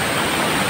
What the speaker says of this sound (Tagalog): So dito tayo sa falls, at naka-falls na ito mga kapamers.